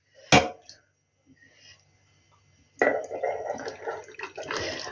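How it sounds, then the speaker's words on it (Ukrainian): Hot marinade for pickled eggplant and peppers poured from a pot into glass jars, starting with a sharp clink, then a quiet gap, then a sustained splashing, gurgling pour that runs to the end. "тепер буду у кожну баночку заливати"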